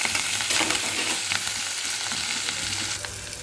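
Onion and tomato frying in oil with cinnamon and cloves for a mushroom gravy: a loud, dense, continuous close sizzle with occasional stirring scrapes, no talking.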